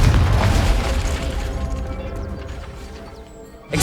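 A Confringo spell from the game Hogwarts Legacy detonates in a loud, booming blast with crackling debris that rumbles and slowly fades, followed by a sharp new impact at the very end.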